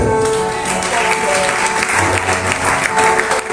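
A church congregation applauds, a dense, sustained wash of close clapping from many hands that continues without a break, with voices faintly audible underneath.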